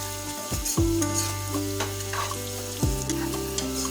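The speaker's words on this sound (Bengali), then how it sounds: "জলটা যোগ করার পর আমরা প্রায় মিনিট 2 ফুটিয়ে নিচ্ছি" Ridge gourd and prawn curry simmers in a pan after water is added, with a soft steady bubbling sizzle, a few stirring scrapes and a low hum of tonal noise, close and without talking.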